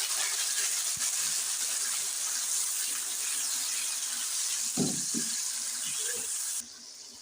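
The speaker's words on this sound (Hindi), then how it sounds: "थोड़ा सा पानी ऐड करेंगे ताकि टमाटर अच्छे से पक जाए जी" Water poured into a pan of cooking tomatoes for a spiced liver masala, a soft continuous hiss and sizzle with a brief gurgling splash near the end before the sound drops away.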